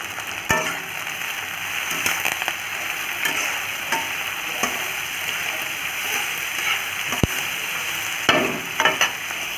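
Onions fry in a pan with salt, giving a steady sizzling hiss under occasional scraping stirs and light clinks of the spoon throughout.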